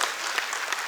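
Audience applause at a Lions club district meeting, a steady wash of many hands clapping together, moderately loud and continuous throughout the short stretch.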